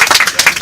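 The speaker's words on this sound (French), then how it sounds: "On a la chance d'avoir un rave exceptionnel, vous pouvez l'applaudir." An audience at a seminar applauds a rabbi, a brief burst of dense, close clapping from many hands.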